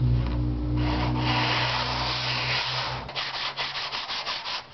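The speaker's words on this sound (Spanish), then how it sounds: "paso uno sería tomar una lija que utilizamos para trabajos de madera" Steady rough scraping of woodworking sandpaper rubbing back and forth over a rough, sandy painted base surface, close up, continuous at first then breaking into quicker short strokes.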